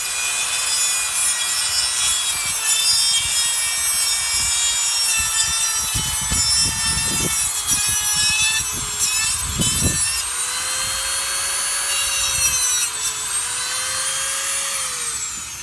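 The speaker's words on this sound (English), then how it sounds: "we're going to be using this rock to grind that metal clamp right there" A rock grinds against a metal hose clamp on a BMW 335i E92 intercooler tube, a steady loud rasping scrape with bursts of heavier scraping strokes midway, continuous throughout.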